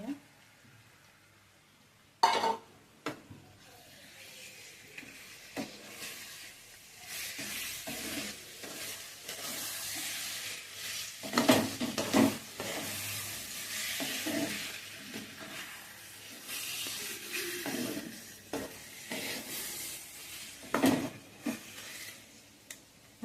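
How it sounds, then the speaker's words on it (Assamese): Mutton cooks in a kadai with browned onion, ginger and garlic, giving a soft sizzle broken by spoon scrapes and knocks against the pan, with occasional quiet speech. "ইয়াতে এতিয়া মই মাংসখিনি দি দিছোঁ।"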